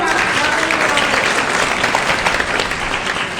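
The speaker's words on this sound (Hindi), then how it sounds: "तालियां बजाइए" Dense, steady applause from an audience at a village S.C. khap mahapanchayat gathering in a Guru Ravidas temple in Karnal, filling the whole stretch at a loud, even level without talk.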